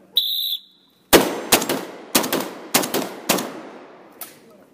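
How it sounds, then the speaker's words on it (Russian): Shooting practice on a range opens with a short beeping buzzer signal, followed by about six sharp, loud gunshots fired at irregular intervals, each cracking and decaying quickly, then one fainter shot. "Можно стрелять."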